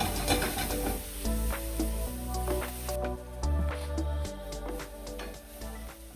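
Sofrito cooks down in a pot, a soft sizzle and bubbling with occasional stirring scrapes, close and fairly quiet, with gentle background music.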